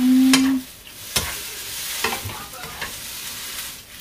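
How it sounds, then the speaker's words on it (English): Glass noodles for Korean japchae cook in a pot of boiling water, giving a steady bubbling hiss with occasional clunks. A short electronic beep sounds at the start. "So pag kumulo na yung tubig, ilagay yung ano? Lagay yung noodles."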